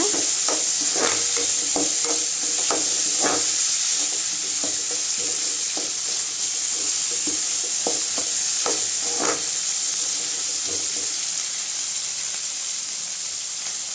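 Steady frying sizzle of carrots and vegetables for wheat rava kichadi, with scraping and clicking from stirring in a pan, close and continuous, with no talking.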